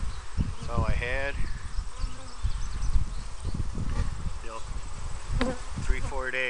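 Honey bees buzz loudly and steadily around an open hive during an inspection, a dense close drone with someone talking over it throughout.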